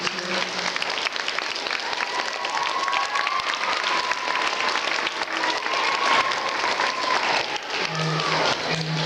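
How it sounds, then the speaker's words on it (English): Fifth graders clap hard for their teachers in a school gathering, a dense, sustained round of applause lasting several seconds, with a few faint voices mixed into the crowd noise. "So fifth graders, if you could give a big clap for your teachers."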